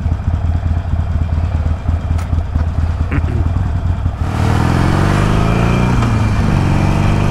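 Harley-Davidson Iron 883 motorcycle engine running close by, a steady low rumbling idle that swells into a louder, fuller roar partway through, with no talk.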